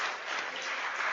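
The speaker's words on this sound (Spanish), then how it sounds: "un aplauso para Ale" An audience applauds during a talk. The clapping is brief and dense, a muffled wash of many hands lasting about a second.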